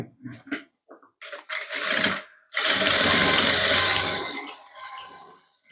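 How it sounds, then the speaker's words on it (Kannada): A sewing machine stitches a padded princess-cut blouse in short stop-start bursts before settling into a longer steady whirring run, then slowing and trailing off, close and clear with no talk. "ರಫಿಂಗ್ ಹೊಲಿಗೆನ ಹಾಕೊಂಡ್ಬಿಡಿ."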